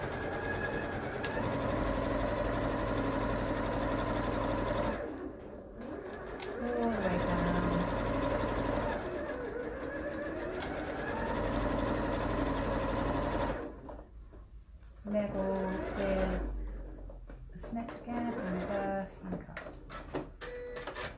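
Sewing machine stitching a French seam around a pocket, its fast whirring run starting and stopping in several bursts, close and fairly loud, with people talking in between.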